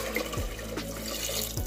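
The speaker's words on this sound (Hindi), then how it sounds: "अब डाल देंगे पानी।" Water pours into a pot while khichdi is being cooked, a close, steady gushing flow with a few faint clinks, and no talking.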